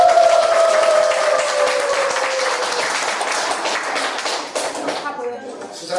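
Audience applause fills a lecture hall at the opening of a Won Buddhist mind-study class, steady dense clapping that runs throughout and thins slightly near the end, with a sustained tone and faint voices underneath.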